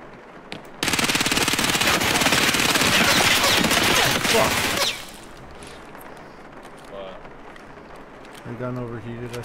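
Sustained machine gun fire in a video game, a dense rapid burst lasting several seconds up front and loud, then stopping abruptly, followed by quieter game ambience and a brief voice near the end.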